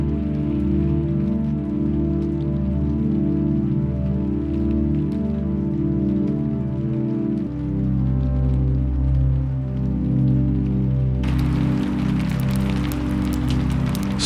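Steady rain falling on surfaces at a temple courtyard, a dense continuous hiss and patter that shifts brighter and heavier near the end, loud and close with no voices.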